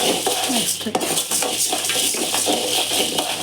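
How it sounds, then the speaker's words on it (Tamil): Toor dal dry-roasting in a pan, the dry lentils rattling and clinking against the metal in quick irregular bursts as they are stirred, loud and close, with a voice faintly underneath. "இப்போ துவரம்பருப்பு நல்லா வறுத்துக்கிறோம்"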